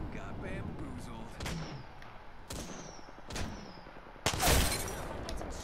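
Grenade blasts in the Warzone video game land as a few sharp, spaced booms, the last one loudest and closest, amid quieter game ambience while players talk.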